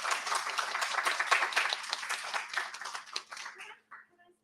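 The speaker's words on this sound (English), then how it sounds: "I'd love to give our poets some applause one last time" Audience applause for poetry contest finalists at a library reading, a dense wash of many hands clapping that thins out and fades toward the end, with scattered voices mixed in.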